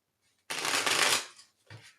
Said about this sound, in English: Let me do one more shuffle.